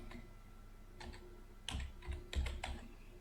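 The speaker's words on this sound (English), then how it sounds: "let me type it in" Someone types on a computer keyboard in quiet bursts of clicks, a few scattered taps early, then a quicker run of louder keystrokes toward the end.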